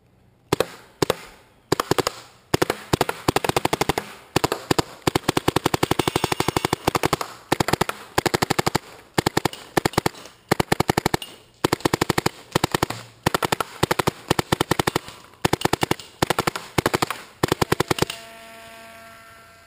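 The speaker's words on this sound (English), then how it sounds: "Alright, we're going to go and fire it now. We're shooting PSB ramping with a Ninja 68 4500 and a Dye rotor." A Dye NT paintball marker fires in ramping mode on a Ninja 68/4500 air tank with a Dye Rotor loader, sharp shots cracking out in rapid bursts and long strings across the whole stretch, loud and close, with no talking.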